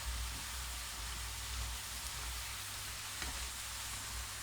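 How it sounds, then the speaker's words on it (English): Pork mince fries in a pan while its liquid cooks off, giving an even, continuous hiss of sizzling at moderate volume with only faint stirring bumps and no talk. "We're cooking out most of the liquid that's in that meat."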